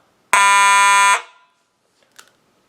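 Simplex 4903-9219 fire alarm horn gives one loud, harsh electronic blast just under a second long, then cuts off abruptly with a short decaying tail and a faint click afterward.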